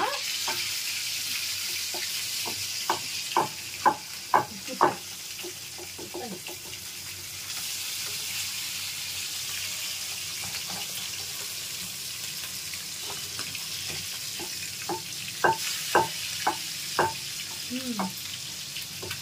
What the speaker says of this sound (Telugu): ఇదైతే ఫ్రై, చేపల ఫ్రై అన్నమాట.